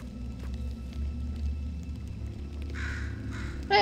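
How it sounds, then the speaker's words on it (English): Harsh bird caws in Portal 2 sound out twice in the latter half over a low ambient hum, with a sharper squawk right at the close. "Oh, there's the bird."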